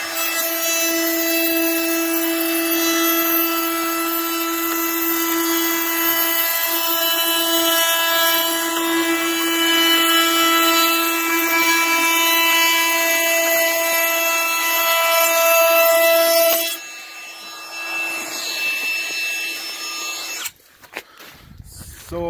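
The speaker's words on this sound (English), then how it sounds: "Let's put this Dewalt compact router to the test." Dewalt 20V Max compact cordless router running with a loud, steady high-pitched whine for about seventeen seconds, then spinning down, followed by a few handling clunks.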